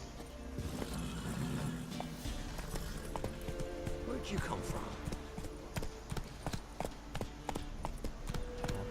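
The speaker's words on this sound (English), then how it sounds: "This is your horse roach, which you can call to you." Roach, the player's horse in The Witcher 3: Wild Hunt, trots with a steady clip-clop of hooves close by, the rhythmic beats running throughout under someone speaking briefly and a faint game soundtrack.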